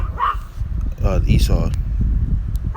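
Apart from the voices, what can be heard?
dogs barking outdoors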